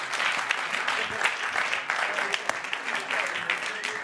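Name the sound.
round of applause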